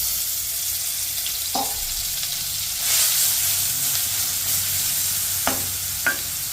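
Shrimp paste hisses and sizzles steadily in hot oil in a home kitchen, with a few sharp clinks of a utensil stirring the pan.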